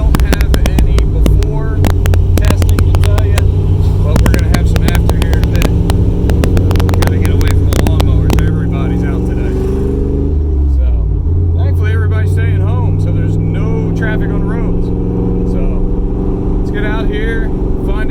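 A 1997 Dodge Dakota pickup drives along, its engine droning loud and steady with shifting pitch and some clicking early on, as a person talks throughout over the hum.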